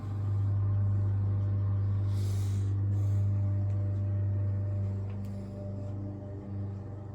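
A pulse motor's disc rotor coasts freely with its capacitors disconnected, giving a steady low hum and whir that holds evenly for several seconds, then softens and fades slightly toward the end.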